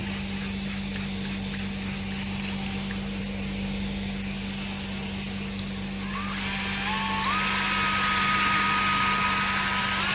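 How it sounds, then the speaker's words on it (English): A continuous loud hiss of a spray nozzle applying cleaner to urine-stained upholstery, steady and close, with a rising whine entering partway through. "I gotta spray this side because I didn't do that yet."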